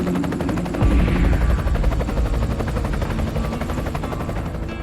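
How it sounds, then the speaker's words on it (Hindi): A helicopter's rapid rotor chop thuds loudly and continuously, close by, with a deep rumbling roar underneath. "और तभी तेज आवाज के साथ हेलीकॉप्टर वहां आ पहुंचा।"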